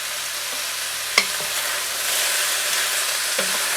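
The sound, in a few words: stew meat browning in a pot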